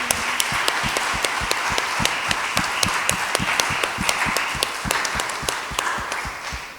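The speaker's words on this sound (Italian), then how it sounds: "applausi." A church congregation claps during a worship service, a rhythmic, evenly spaced beat of hands in unison, steady and moderately loud for several seconds.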